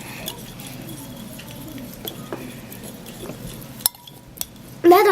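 Green slime gets stirred in a bowl with a utensil, giving soft scraping and a few sharp clinks against the sides, close and moderately quiet, with a louder knock at the end.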